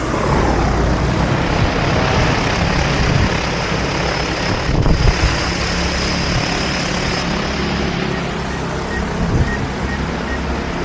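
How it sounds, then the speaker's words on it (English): An agricultural crop-spraying drone of the kind used over Chinese farmland flies close by, putting out a loud, steady, dense whirring roar with a faint high whine that holds throughout. "this is definitely the first time that I've ever flown like a drone that they use on the farmland"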